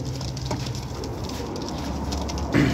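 Soft, low pigeon coos murmur close by, with faint fluttering and shuffling around them in a quiet enclosure.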